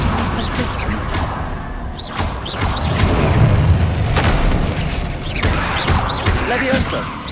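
Confringo blasting spell in the video game Hogwarts Legacy, loud booming impacts and crashes amid busy combat noise, with a voice talking over the action.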